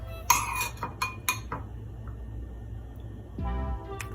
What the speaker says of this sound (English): we're going to scoop out a few pieces of this beautiful sardines from the Philippines